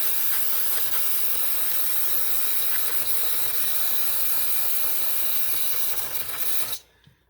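Aerosol brake cleaner is sprayed onto a CF Moto engine as one continuous loud hiss. It runs for about seven seconds and then cuts off abruptly into near silence. No one speaks.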